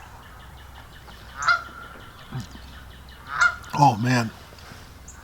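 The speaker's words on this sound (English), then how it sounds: "We got a pair of geese always land in the yard about this time of the day and go through and eat whatever they eat" A pair of geese in a yard giving several loud, close honks in short bursts, the last few calls clustered together, with someone speaking briefly.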